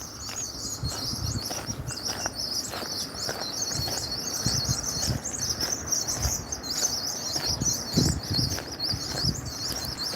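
A flock of birds flapping their wings in loud, repeated fluttering bursts beside constant high, shrill chirping, close and busy throughout, at an outdoor spot during a Pokemon GO community day walk.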